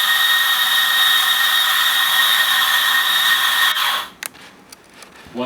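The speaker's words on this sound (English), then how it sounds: "Grind some coffee, fresh espresso beans" A coffee grinder whirs steadily and loudly as it grinds fresh espresso beans, a continuous high buzz that cuts off abruptly after about four seconds, followed by a few light clicks and taps.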